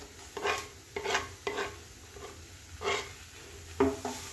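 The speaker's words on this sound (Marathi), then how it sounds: "आता हे यामध्ये परतून घेऊया आणि मसाले सर्व मिक्स करून घेऊया" A spoon stirs grated boiled potatoes with spices as they sauté in a pan, giving several scraping strokes over a faint sizzle, close and moderately loud.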